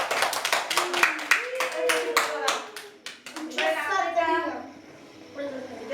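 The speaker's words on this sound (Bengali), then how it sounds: "হাততালি দে তোরা, হাততালি দে।" Children clap in a quick, ragged burst at a birthday party, loud and close for about four seconds before fading, with children's voices and talk mixed in throughout.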